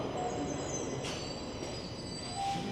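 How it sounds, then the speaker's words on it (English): A Toronto subway Line 1 train rolls into a station, a steady metallic rumble with high wheel squeal tones and a few brief hissing bursts, fairly close with no talking. "As our train rolls in."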